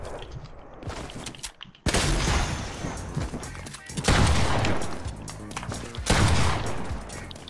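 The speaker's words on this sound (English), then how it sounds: "I start shooting you like that." Fortnite gunfire rips out in three loud, dense bursts of rapid shots separated by brief quieter pauses with faint game sounds between them.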